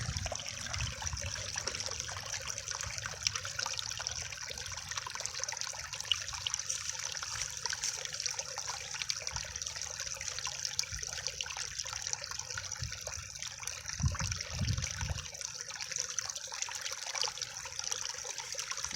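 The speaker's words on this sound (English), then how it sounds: "With that drip, with that fall, that little waterfall." A small waterfall trickles in Papio Creek, producing a steady, close splashing and dribbling that runs unbroken at moderate volume, with a couple of brief low thumps partway through.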